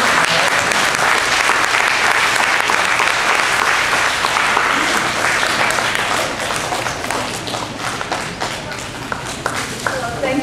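An audience at a book launch applauds in a dense, sustained burst of clapping that fills the room and tapers slightly toward the end, with voices faintly underneath.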